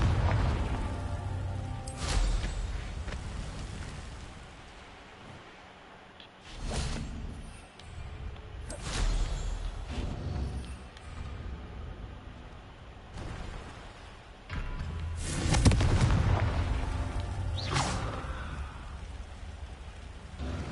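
Confringo fire spell blasts in the Hogwarts Legacy video game: several loud booming explosions spaced apart, each a sharp burst followed by a rumbling tail over a crackling, rain-like background.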